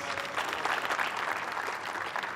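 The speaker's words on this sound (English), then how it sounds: "One big final round of applause for your OKN" A crowd at a UAE karting series round at Al Forsan gives a steady round of applause for the OKN Juniors drivers, a continuous wash of many hands clapping that holds evenly for a couple of seconds.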